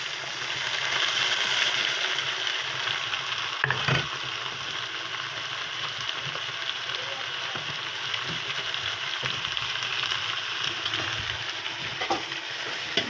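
Chopped tomatoes tossed into onions frying in a pan, then stirred, giving a continuous close sizzle with scraping spatula strokes and a brief clatter, no voices.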